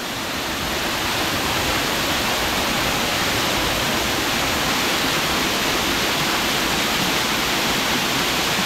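Shilbunia waterfall in the hills, a steady loud roar of falling water, broad and unbroken throughout, close by with no voices.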